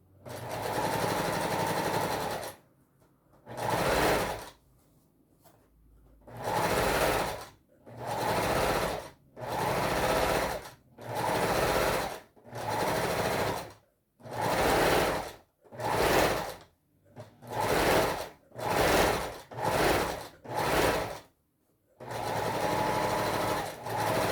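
A sewing machine stitches in repeated short, loud bursts separated by brief pauses, with quick back-and-forth runs for backstitching while making a fabric Christmas panettone holder.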